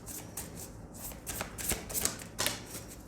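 Tarot cards are shuffled by hand at close range, giving a series of soft, papery riffles and slaps in an irregular rhythm, faint and without speech.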